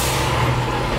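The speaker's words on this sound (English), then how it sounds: "Traffic seems to be moving a bit now though" Truck in slow-moving traffic letting off a loud, sustained hiss of air brakes over a low engine rumble, close by.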